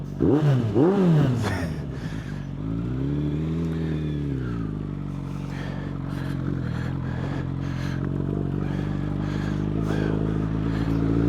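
A Suzuki Bandit 1200N MK1 motorcycle's engine runs under light throttle, a steady close throaty drone that swells with a couple of quick revs at the start, continuing loud and even throughout with no talk.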